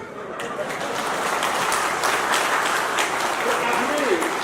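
A crowd at a political rally in Nepal claps in a sustained, dense wave of applause that swells and holds steady, with a voice speaking over it.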